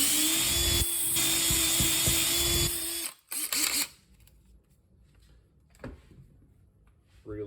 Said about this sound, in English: Then we're going to go ahead and drill out this opposite hole as well.